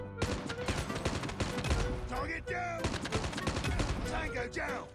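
Rapid bursts of automatic gunfire in the mobile shooter Call of Duty Mobile, loud clattering volleys with brief gaps and weapon handling sounds between them, game effects heard alone.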